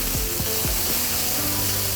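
Green pepper strips, dried red chili pieces, garlic and scallion stir-fry in hot oil in a wok, a steady loud hiss and crackle with a few quick rising metallic scrapes of the spatula, no talking.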